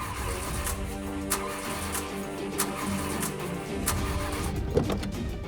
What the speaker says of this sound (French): C'est aujourd'hui que cette voiture tombe en panne,